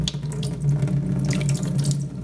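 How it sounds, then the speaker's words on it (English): Paper pulp water poured over a strainer into a sink makes a steady, close splashing rush that runs continuously for a couple of seconds. "pour it over a strainer like this to get the water out of that pulp"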